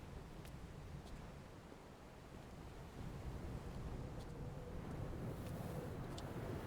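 Wind blows over the bleak island landscape of the video game Dear Esther, a faint, steady, hollow rush with a slight swell midway and no voices.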